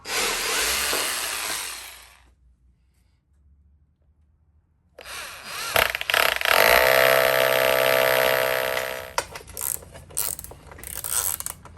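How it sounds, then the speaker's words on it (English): A power drill whirs into a wall in a burst, pauses in near silence, then runs again longer with rising pitch before trailing off in clicks. "let's just drill it"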